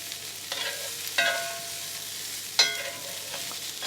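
Lardons and Brussels sprouts frying in a pan, a steady close sizzle broken by a few sharp bursts as the pieces are stirred or tossed, with no voices.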